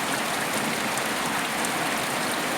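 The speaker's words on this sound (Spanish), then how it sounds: "llueve sobre Saizpeña, llueve copiosamente sobre Saizpeña." Heavy rain falls steadily and loudly on surfaces, a dense, continuous hiss with no pauses and no voices.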